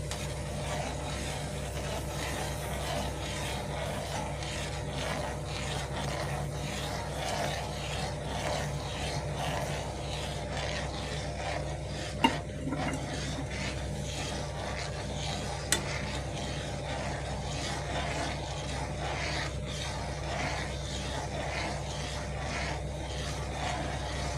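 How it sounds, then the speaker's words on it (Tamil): Semolina (rava) being stirred into boiling water in a pot in a home kitchen, a steady continuous scraping and bubbling texture for the whole stretch with a couple of sharp clicks, no voices. "தண்ணி கொதி வந்துச்சு. இப்போது ரவை போட்டுக்கலாம்."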